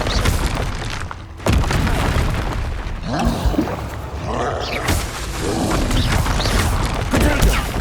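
In Hogwarts Legacy, the Bombarda spell sets off loud, booming blasts with crumbling, shattering debris, filling the space with heavy rumbling through repeated explosions.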